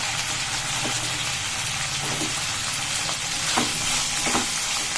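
Onions fry in a pan for foxtail millet khichdi, giving a steady, close sizzle with a few faint stirring clicks over a low background hum.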